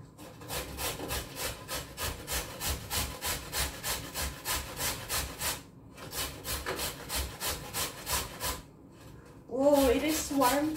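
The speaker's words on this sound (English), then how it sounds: "we need to grate this, you know, this kalabasa" A kalabasa squash is grated by hand in quick rhythmic back-and-forth scrapes that run steadily with brief pauses, close up, with a voice cutting in near the end.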